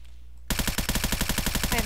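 Rapid automatic gunfire in an online shooter video game bursts in after a quiet moment, a fast, loud, even stream of shots.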